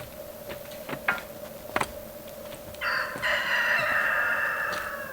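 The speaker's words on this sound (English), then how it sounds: "The rooster disagrees." A rooster crows in a long, loud call that carries over steady background hum, preceded by a few scattered clucks and knocks from farmyard fowl.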